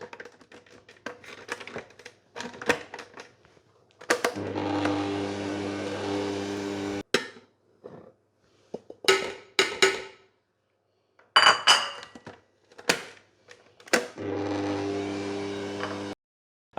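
Stand mixer on low speed beating tart pastry dough of butter, egg and flour, running in steady whirring bursts separated by pauses and light clinks of the bowl, fairly close.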